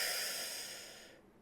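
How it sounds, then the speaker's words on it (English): A single long, deep breath drawn in through the mouth during a guided relaxation exercise, close and soft, slowly fading out over its length with no talking. "Breathing in"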